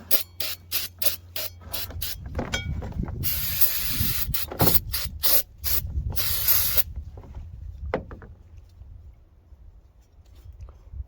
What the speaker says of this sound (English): I might actually give it a quick spritz of the brake parts cleaner just to make sure I get all the smooth off inside and out